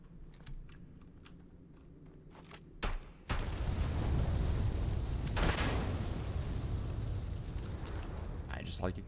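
Explosions in the space game Starfield, a sudden loud roaring blast that holds as a dense rumble for several seconds after a few earlier clicks and thumps.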